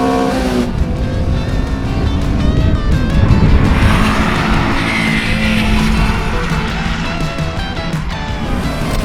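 Loud cars launch hard off the line in a drag race between a Schnitzer-tuned car, a new Golf GTI and a Toyota GR86, engines roaring and tires squealing close by, with brief voices over the noise.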